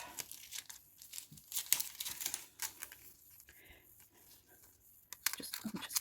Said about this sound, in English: So I'm just going to cut a wee bit of this off.